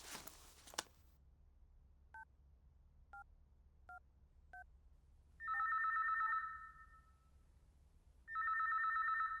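A telephone call being placed at a security office: a burst of noise, then four short paired dialing beeps, followed by two long electronic ring tones separated by a gap, clear and alone with no talking.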